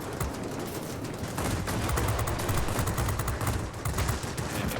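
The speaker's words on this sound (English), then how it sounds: "Get our big old 37mm cannon on target here." A MiG-15 bis fires its 37mm cannon in World of Warplanes, a rapid run of heavy, booming shots in quick bursts over a constant engine roar, loud and sustained for several seconds.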